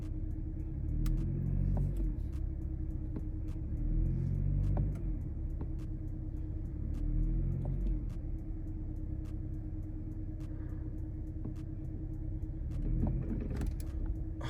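A lowered BMW M340i on H&R lowering springs creeps up a steep driveway, its engine a low steady rumble close by, with faint periodic creaks and light bumps as the suspension works.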